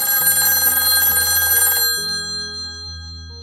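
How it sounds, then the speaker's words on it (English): A telephone rings loudly and close, a bright electronic trill with steady tones that cuts off partway and leaves a fainter lingering ring. "The phone rang."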